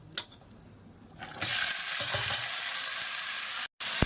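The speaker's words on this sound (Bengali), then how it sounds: "আমি এর মধ্যে তেল দিয়ে দেব আগে ভাজা করে নেব" Oil in a wok (kadai) in a Sundarbans village kitchen, being heated to fry before fish is cooked, bursts into a loud, steady sizzle after a quiet start and keeps hissing, with one brief cutout near the end.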